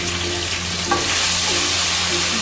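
Ginger-garlic paste and Kashmiri chilli fry in a pan for egg biryani, giving a steady, close hiss of sizzling oil with a single stirring scrape partway through.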